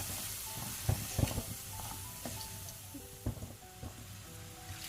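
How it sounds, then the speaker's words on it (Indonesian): Steady crackling sizzle of salted fish frying in hot oil in a wok, with a few louder pops and clatters of a utensil against the pan. "Dan di wajan satunya lagi saya goreng ikan asin"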